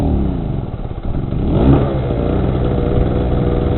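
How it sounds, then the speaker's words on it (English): A small portable generator runs nearby with a steady, loud mechanical drone, its engine pitch rising briefly in the middle before settling back into a continuous hum. "It's a smaller generator."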